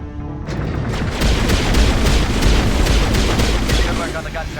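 Video game gunfire, a run of loud, evenly spaced shots and heavy booms across a few seconds, sounding close and dominant with a voice speaking underneath.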